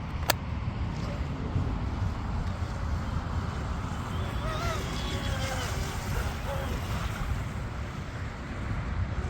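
A radio-controlled shrimp rigger boat runs on a 4S battery, sending a steady broadband rush of motor, water spray and wind noise. A faint whining tone rises and falls in the middle, and a voice speaks briefly over the rush.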